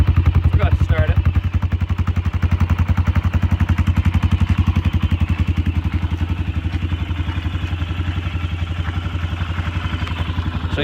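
2003 Honda 400ex ATV engine idling with a fast, even thumping pulse and mechanical clatter, close and loud throughout.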